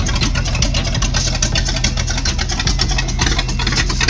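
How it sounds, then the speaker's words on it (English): A 1981 Malibu street car idles with open headers, a loud, close, lumpy exhaust burble pulsing steadily and continuously throughout. "Y'all hear that motor? Open headers."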